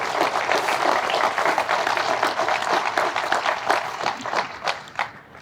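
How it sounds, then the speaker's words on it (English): Audience applause at a police department headquarters ribbon-cutting ceremony, a dense crowd clapping steadily at close range, thinning into scattered individual claps before fading out. "give these guys a round of applause for being good people"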